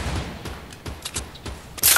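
Gunfire in the video game Fortnite Battle Royale: a quick string of sharp shots fired in succession, ending with a louder, denser burst.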